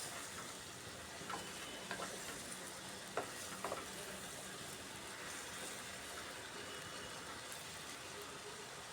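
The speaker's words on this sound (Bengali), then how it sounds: "গুলে রাখা মশলাটা দিয়ে খুব ভালো করে মিশিয়ে নিতে হবে মিশিয়ে ধীরে ধীরে কষিয়ে নিতে হবে সিম আলু টমেটোটাকে" Flat beans, potato and tomato cooking with a spice paste in a pan give a steady, moderate sizzle, broken by a few soft scraping stirs near the middle.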